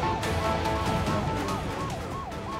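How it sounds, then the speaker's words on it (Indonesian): A police siren wails continuously in a drama scene, its rising and falling tone sweeping over a dense, busy background at fairly close range. "Suara sirene. Polisi sudah datang."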